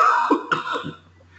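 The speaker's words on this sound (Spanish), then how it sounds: "tengo una gripe un poco fuerte y me da tos" A person suffering from a fairly strong flu coughs once in a short, close, harsh burst with a throat-clearing quality, followed by quiet.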